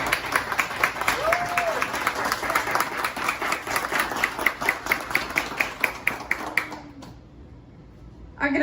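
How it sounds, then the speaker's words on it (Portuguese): Audience applause at a book launch and talk for the book As faces de Anita: a dense, steady round of clapping that goes on for about seven seconds, then stops abruptly, leaving a quiet room. "A todas pedimos uma salva de palmas."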